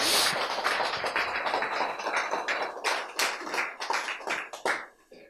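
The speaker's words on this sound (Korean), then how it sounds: "박수." Audience in a lecture hall clapping, a dense burst of applause that starts loud and gradually thins into scattered claps before fading out.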